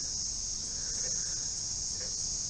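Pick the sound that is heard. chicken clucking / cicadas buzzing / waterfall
cicadas buzzing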